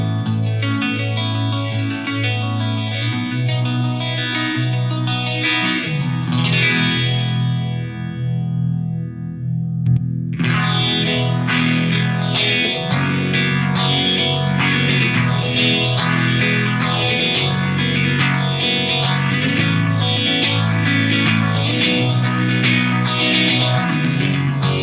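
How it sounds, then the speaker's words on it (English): An electric guitar runs through the standalone phaser of a Lexicon MPX G2 effects unit, giving sustained, distorted chords a slow, swirling sweep. A short pause comes before a busier strummed passage. No one speaks. "there is a standalone phaser on here."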